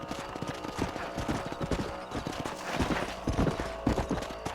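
Hooves clip-clop at a steady trot as a horse carries its rider across ranch land in Red Dead Redemption, a close, rhythmic patter over a low background bed.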